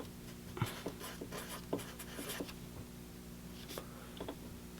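Pen writing on paper, quiet close-up scratching strokes in short irregular bursts with small taps, faint over a low background hum, no talking.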